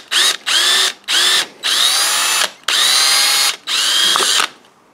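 A hand drill with a 3mm bit bores into a chrome-plated brass lock cylinder, making five close whining bursts of about half a second to a second each, separated by brief pauses.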